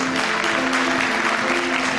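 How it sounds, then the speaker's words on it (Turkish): Steady, full applause from a large crowd, dense continuous clapping with no pauses, loud and close throughout. "Sayın Hocama gönül dolusu bir alkış istiyorum"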